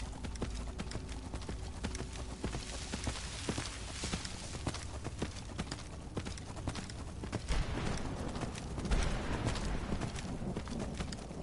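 Horse hooves in the video game Skyrim clip-clop in a steady, brisk rhythm, close and continuous over an ambient game background.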